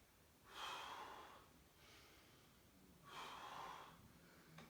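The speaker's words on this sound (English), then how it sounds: "Breathing through the reps." Heavy breathing during crunch exercise reps with feet up on a chair, two loud, forceful breath bursts with quieter breaths between them, close and alone.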